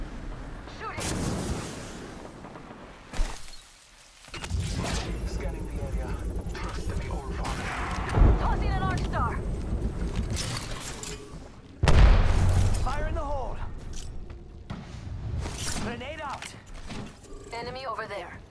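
Video game gunfire, repeated booming shots and mechanical clanks in rapid bursts, mixed with heavy thuds and frequent speech over the action.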